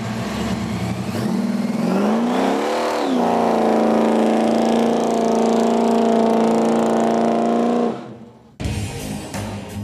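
A custom hot rod with an exposed Hemi engine revs hard in a parking lot, its loud, close exhaust climbing and holding a high roar for several seconds before cutting off abruptly, then rumbling again.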